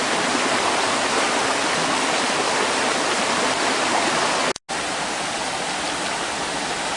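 A waterfall in the Smoky Mountains roars as a steady, broad rush of falling water, close and loud, unbroken except for a momentary cut near the end.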